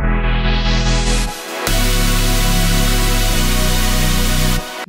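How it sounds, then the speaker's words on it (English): Electronic song chords played on their own sound as full, loud sustained synth chords, with a brief dropout before the second chord and one more change later in the passage. "If I just play you the chords, sounds like this."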